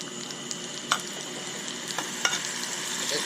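Snapper fish for blackened snapper fries in a cast iron skillet. A constant crackling sizzle is broken by a few sharp pops and clinks from stirring.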